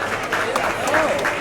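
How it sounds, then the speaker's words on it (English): A cruise ship farewell party audience applauding, a short burst of clapping mixed with crowd noise and overlapping voices. "Give yourselves a round of applause."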